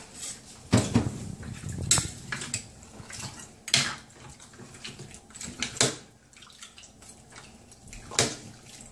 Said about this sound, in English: Once I'm finished putting it in the pressure cooker, I'm going to go ahead and mix it up.